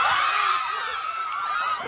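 A person imitates a zombie with a sustained, strained, high-pitched scream that stays loud and steady for nearly two seconds, with faint crowd laughter beneath.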